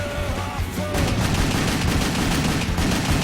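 Rapid automatic gunfire from the video game WET bursts out after a short lead-in and continues as a dense, loud rattle of shots over game music.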